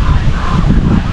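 Strong wind gusts ahead of a super typhoon buffet the microphone in a short, loud burst of rumbling, rushing noise.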